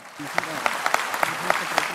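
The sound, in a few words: audience applause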